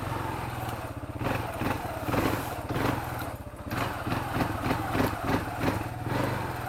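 Kawasaki Bayou 250 quad engine chugging and revving unevenly while riding, a close mid-pitched putter that rises and falls in pulses throughout, with wind rumble and clatter.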